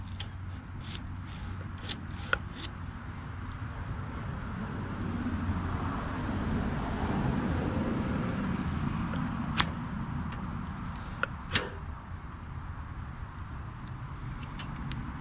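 A Honda FL250 440cc two-stroke engine runs at a high idle, a faint steady low drone held for about fifteen seconds, with a few scattered clicks and knocks over it.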